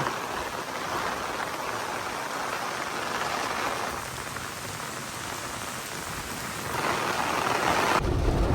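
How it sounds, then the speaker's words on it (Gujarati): Heavy rain pours down steadily in a dense, loud hiss that fills the whole clip and swells slightly near the end. "તો ભાઈ જોઈ લ્યો વરસાદ બાકી કેવો આવ્યો જોરદાર આવ્યો"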